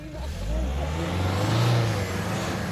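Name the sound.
car engine revving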